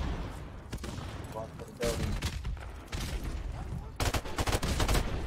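Bursts of automatic gunfire from Call of Duty 4: Modern Warfare multiplayer come in several sharp volleys, loudest near the end, with a voice talking over the shooting.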